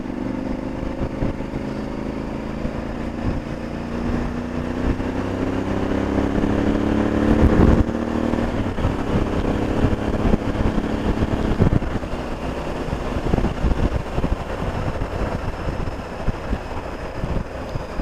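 Motorcycle cruising on country roads around Bath with a freshly adjusted chain, a steady engine drone with shifting pitch under constant wind buffeting on the microphone.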